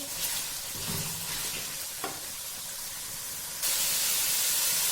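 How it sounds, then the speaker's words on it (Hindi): Carrots frying in oil in a pan for chicken and vegetable egg fried rice give a steady, close sizzle with occasional stirring scrapes, turning to a louder, brighter hiss near the end. "कैरेट को ऐड करके इसको तकरीबन 30 मिनट तक हम इस ऑयल के अंदर फ्राई करेंगे।"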